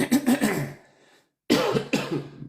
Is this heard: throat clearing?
yes